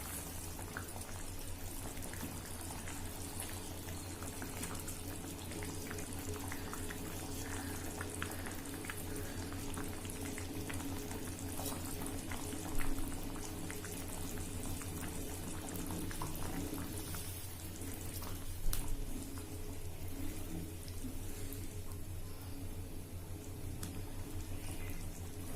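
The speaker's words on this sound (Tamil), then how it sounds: "குழம்பு நல்லா கொதிக்குது." Mochai bean and dried fish curry (karuvadu kulambu) simmering on the stove, a steady low bubbling and sizzle that runs continuously, close and fairly quiet, with two brief louder pops and no talking.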